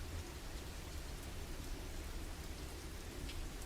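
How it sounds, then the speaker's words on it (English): Steady rain falls outside, a soft, even hiss of drops with no voices and no breaks, faint and continuous throughout. "You know it's raining out right now."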